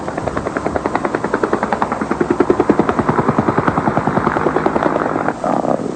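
A helicopter hovers with a sling load as the load settles onto the ground, its rotor thumping in a steady, loud, close rhythm throughout with no talk.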